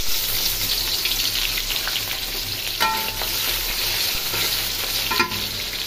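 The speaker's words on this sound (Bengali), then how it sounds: "তো এখন আমি দিয়ে দিব পেঁয়াজ কুচিটা গরম তেলে।" Chopped onion fries in hot oil with a dense, constant sizzle, close and loud, and a couple of clinks from stirring the pan.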